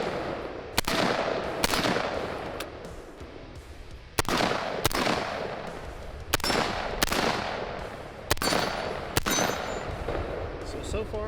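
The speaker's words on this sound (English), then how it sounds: "we're gonna shoot this thing down range" Rifle shots fired downrange through a Northtac optic with a magnifier at an outdoor range, about eight sharp, loud reports spaced roughly a second or two apart over a steady background of wind or ambient noise.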